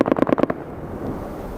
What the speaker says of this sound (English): That was our bombs. No, both of them. There's 2 bombs.